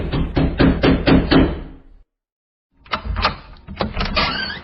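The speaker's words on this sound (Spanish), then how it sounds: "Se fue a la celda de la superiora y tocó la puerta." Sharp knocks on a door used as a story sound effect: a quick run of about six raps, a pause of silence, then another burst of several knocks, close and fairly loud.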